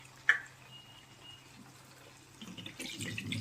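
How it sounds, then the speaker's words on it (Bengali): Water added to a pan of well-fried, spiced chicken curry: a brief knock at the start, a quiet lull, then a soft, steady rush of pouring liquid rising at the end. "এবার জল দিয়ে দিলাম।"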